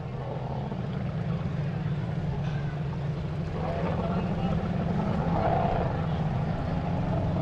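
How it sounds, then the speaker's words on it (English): A steady, loud engine roar from unlimited-class racing speedboats approaching the starting line on a lake, droning continuously and swelling slightly as they draw nearer. "the boats approach the starting bar"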